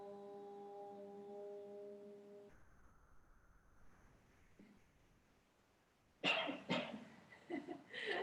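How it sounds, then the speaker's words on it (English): Near the end of a quiet yoga class, a chanted Om fades into near silence, then a person coughs several times in short, close bursts. "Nothing like having a cough during the Om"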